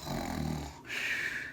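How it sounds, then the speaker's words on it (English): A snoring sound effect for a sleeping Bernard in a children's read-aloud story: a low rumbling inhale-like snore, then a brief gap and a breathy, hissing exhale, heard alone. "Bernard snored loudly."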